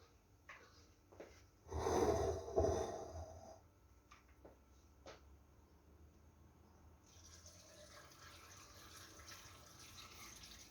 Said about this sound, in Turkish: sirkeli suyumu Şimdi boşaltacağım